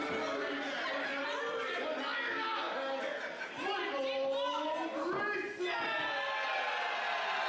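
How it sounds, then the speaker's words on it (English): A wrestling crowd at a pro wrestling show for Michael Greyson, a dense mass of voices cheering, chattering and laughing, with shouts rising and falling and a voice talking over it. "crowd fired up for Michael Greyson"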